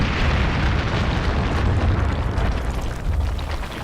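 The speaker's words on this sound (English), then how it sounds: "Oh, and lots of explosions incoming." Explosions in the video game Kingdoms of Amalur: Reckoning, a dense, continuous rumbling barrage of booms that fills the whole stretch at loud, steady intensity.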